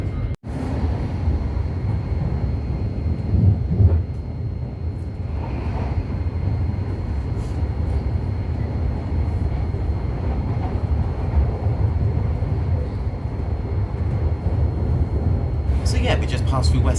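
Thameslink train running fast through West Hampstead Thameslink toward St Albans, heard from inside as a loud, steady low rumble and rattle of the carriage, with a voice talking over it.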